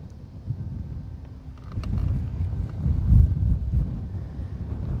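Breezy wind on Lake Guntersville, low buffeting rumble on the microphone that swells in gusts toward the middle, close and continuous, with a few faint knocks and no talk.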